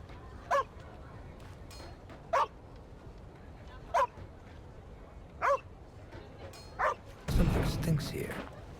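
A dog in The Inquisitor video game lets out a string of sharp, evenly spaced barks and whimpers at moderate distance, ending in a louder rushing burst.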